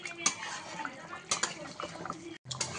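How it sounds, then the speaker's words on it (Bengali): A spoon stirs chicken curry in a pot, making a few close metallic scrapes and clinks against the pot over a soft bubbling background, with a faint voice. "মাংসটাকে মাঝে মাঝে একটু নেড়ে রাখতে হবে যাতে না নিচে বসে যায়।"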